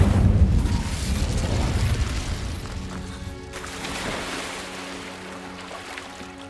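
Incendio fire spell cast in the Hogwarts Legacy video game: a loud, rumbling whoosh of flame that roars at first, then fades into a lingering crackling hiss over several seconds, with no talk.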